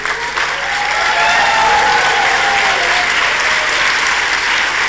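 Warm applause from an audience in the auditorium at Vigyan Bhawan during the Partners Forum 2018 closing ceremony, a dense, sustained clapping that swells after the first second and holds steady.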